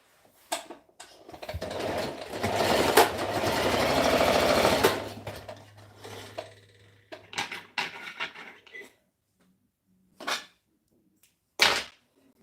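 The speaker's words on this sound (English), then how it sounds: "I'm going to be stitching ½ inch inward" Sewing machine stitching the hem of a v-neck shirt half an inch in, one long steady run of close stitching followed by a few short bursts and separate stops, close and alone.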